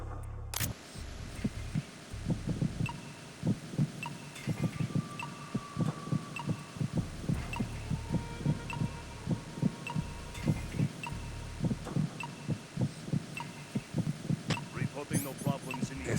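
Heartbeat sound effect in the stealth video game Metal Gear Solid 2: Sons of Liberty, soft repeated low thumps in a steady pulse over a quiet hum, with occasional game noises and speech mixed in.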